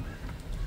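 A turkey in the mountains of northern California gives a short, loud honking call, a harsh gobble-like burst close by.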